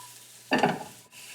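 Seasoned vegetables tossed and stirred in a pan for a chilled cucumber mint soup, giving a single brief burst of sizzling and scraping that swells for about half a second and then fades, alone without talk.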